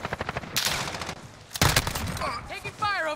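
Uzi submachine gun fire in a Modern Warfare hardpoint match: rapid automatic bursts and a sharp loud volley, with game sounds and a player talking near the end.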